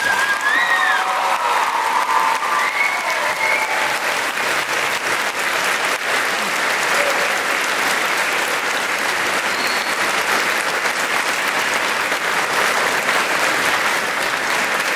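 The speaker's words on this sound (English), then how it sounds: "can we just get a round of applause for this beautiful woman here" A high school spring choir concert audience applauding, a dense, sustained wall of clapping that stays loud and even throughout with faint cheering mixed in.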